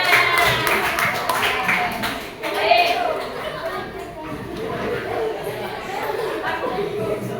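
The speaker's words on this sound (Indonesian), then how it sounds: "Tepuk tangan." A group claps together during a teacher coaching session, brief scattered applause mixed with chatter and voices of people talking nearby.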